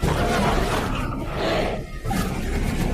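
A loud, rough grizzly bear roar fills the clip, deep and growling, swelling and fading with a brief dip near the middle.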